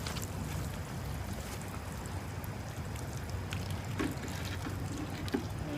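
Pansy seeds in a planter box are watered, producing a soft, continuous trickle and pour with faint splashy ticks throughout, quiet and close.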